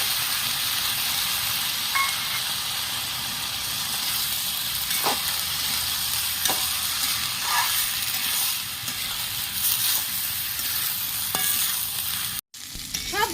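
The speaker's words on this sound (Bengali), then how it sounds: "ভালো করে আমি ভেজে নিয়েছি" Cubed potatoes and green chilies fry steadily in a hot pan, a continuous broad sizzle with occasional scrapes of stirring, close and loud without any talking.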